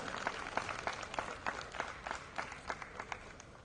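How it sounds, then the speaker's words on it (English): An induction-day gathering at a management institute gives the chancellor a round of applause, heard as faint, scattered clapping from a modest crowd, distant and uneven in rhythm. "Please give him a huge round of applause."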